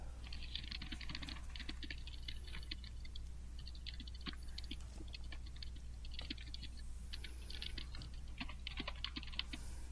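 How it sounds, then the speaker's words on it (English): Fingers type on a computer keyboard in quick, irregular bursts of light clicks over a steady low electrical hum, soft and fairly close. "What are you typing?"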